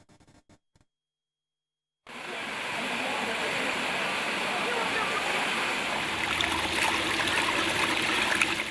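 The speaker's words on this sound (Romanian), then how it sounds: "Așa curge apa deja de două zile pe scările unui parc din sectorul Râșcani al capitalei." Water from old burst pipes pours steadily down the stairs of a city park, a loud continuous rushing and splashing that starts abruptly after a short quiet stretch, with a voice speaking over it.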